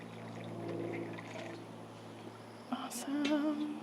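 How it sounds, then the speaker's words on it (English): Freshly steeped black tea pours into a cup at a Regency-style tea party, a steady liquid stream that is fairly close and moderate in level, with faint background murmur and a brief voice near the end. "Lovely pour."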